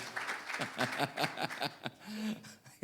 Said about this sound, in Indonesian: Sekali lagi saya mau lihat tepuk tangan yang paling meriah dari Samgar Getsemani.